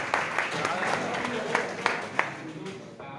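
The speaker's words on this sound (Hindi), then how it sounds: "स्वागत है, तालियां।" Scattered applause from an audience at a new year program, sparse claps mixed with a few voices and talk, fading out toward the end.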